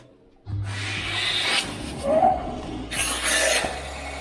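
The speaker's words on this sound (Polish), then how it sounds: "Zwalniamy blokadę, uruchamiamy odkurzacz." A Cyclo Vac HD7525 central vacuum cleaner switches on with a sudden rush of airflow, then roars in a close, loud, fluctuating suction hiss as the hose draws air.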